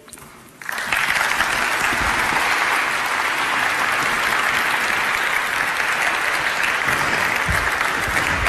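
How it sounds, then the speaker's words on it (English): A large audience at a United Nations public service forum opening session breaks into loud, sustained applause that starts abruptly and continues evenly for several seconds with no talk over it. "Give her a big round of applause again"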